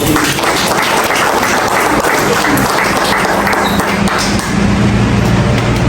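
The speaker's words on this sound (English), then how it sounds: "So give me all of yourself a round of applause." A conference audience applauds in a dense, continuous wash of clapping that stays loud and even throughout, with no clear voices over it.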